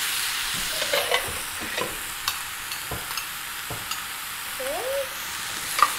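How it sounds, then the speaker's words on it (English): Meat fries in a pan for taco soup, a steady close sizzle broken by light scrapes and taps as it is stirred, with no voices. "And while you're cooking your meat"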